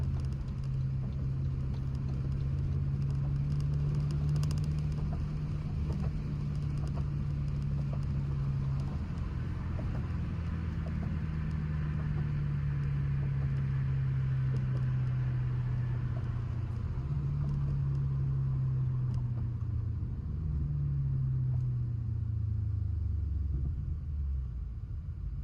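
A BMW 750i with a twin-turbo V8 drives along, its engine a steady low rumble with rising and falling tones as it moves through the gears, with wind and road noise throughout.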